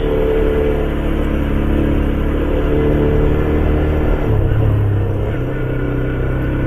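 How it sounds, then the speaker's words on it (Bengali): A motorbike engine labours steadily in first gear up a steep, winding hill road, a loud continuous low drone with a slight shift in pitch partway through, no speech. "এখানে 1 নাম্বার গিয়ার দিয়ে উঠছি আমরা"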